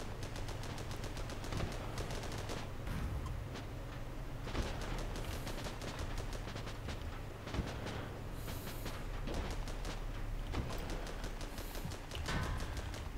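Rapid machine gun bursts rattle in a World War 1 tank battle video game, repeated volleys of crackling shots over a low engine rumble, with brief gaps between bursts and no talking.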